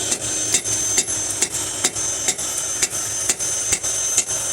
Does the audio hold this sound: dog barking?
no